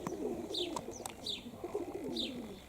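Pigeons coo in soft, repeated low phrases on a windy seaside day, with a few sharper chirps and flutters between calls, fairly close and clear with no talk.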